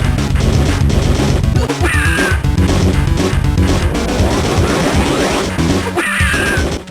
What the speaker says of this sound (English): why does smashing these things make them electrocute?